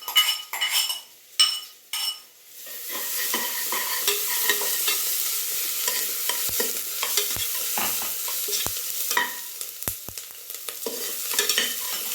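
Ginger and garlic frying with browned onions in a pan for a mutton head curry, giving a steady close sizzle with stirring scrapes and a few sharp utensil clinks against the pan, no talking.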